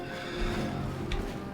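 A horse whinnies in the fantasy game Skyrim, a faint, brief neigh over a low, steady ambient bed with no talking.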